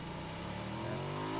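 A steady car engine drone in PUBG hums at an even pitch, fairly quiet and continuous, with no voices.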